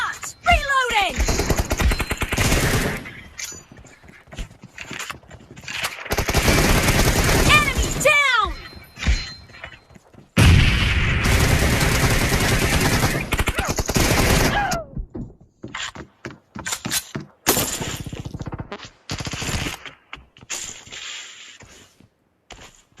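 Rapid gunfire bursts and single shots from a PUBG match, loud and close, alternating with gaps, alongside in-game voice callouts and clattering effects.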